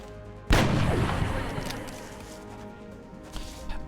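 Gunfire and artillery from the turn-based strategy game Long War, Ironman Impossible: one loud, close blast strikes and rings out in a long decaying rumble, followed by a few fainter impacts near the end.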